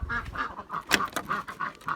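Ducks on a chicken farm quack and honk in short repeated calls at close range, several birds overlapping in a busy, fairly quiet chatter.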